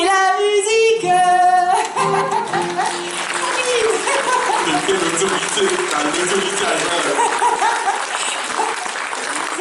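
A live concert crowd at a festival claps in loud, dense applause that thins into scattered clapping, while voices speak over it.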